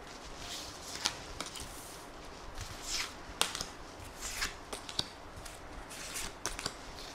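Tarot cards are laid out one by one on a table, giving crisp, close slaps and sliding swishes in an irregular rhythm, quiet and with no one talking.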